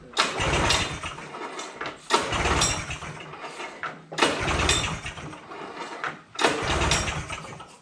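A vintage Polaris snowmobile engine, unused for 20 years, is cranked repeatedly: four loud bursts of coughing, sputtering engine noise about two seconds each, with brief drops between attempts but no steady idle.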